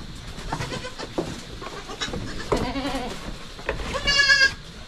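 Young goats bleat in a backyard, several overlapping wavering cries of varying pitch, close and fairly loud, over a busy rustling outdoor background.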